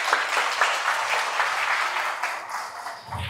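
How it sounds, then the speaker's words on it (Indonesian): A talk show audience in a school hall applauds in a lively, uneven round of claps that tapers slightly near the end. "Boleh kasih tepuk tangan sekali lagi?"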